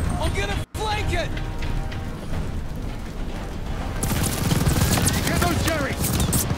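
Machine gun fire in Call of Duty Vanguard, a dense crackling fusillade of battle gunfire that grows heavier partway through, with shouted voices over it.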